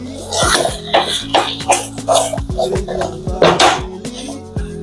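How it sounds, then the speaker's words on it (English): Thick plantain fufu dough being stirred in a pot, giving repeated knocking and scraping strokes in an uneven rhythm, close and fairly loud, with light background music or hum underneath. "We'll just continue Stirring."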